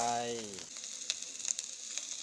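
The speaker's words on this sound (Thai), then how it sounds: "ผัดพริกแกงจนหอม เสร็จแล้วจะใส่หมูลงไป" Curry paste sizzles and fries in oil in a pan before pork belly goes in, a steady close hiss with small stirring clicks after a brief voice at the start.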